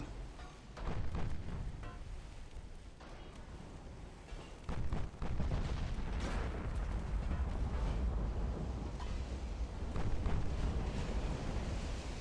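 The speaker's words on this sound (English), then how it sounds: "Torpedo hit." Torpedo hit on a warship in the naval battle game Ultimate Admiral: Dreadnoughts, a deep rumbling explosion with a sudden thump midway, then sustained low roaring blast noise, fairly faint overall.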